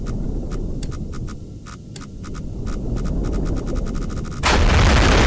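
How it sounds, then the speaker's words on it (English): Submarine in the horror game Iron Lung slamming into a wall: low rumbling hull drone with sparse clicking beeps, then a sudden loud crash-like burst of noise near the end. "If you run into a wall, it looks and sounds like this."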